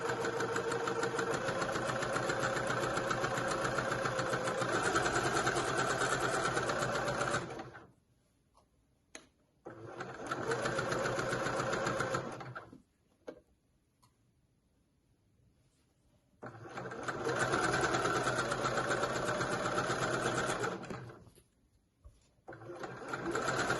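Sewing machine stitching a curved pocket seam on a dress, running in long steady bursts of whirring stitches separated by pauses, close and clear, with no talking.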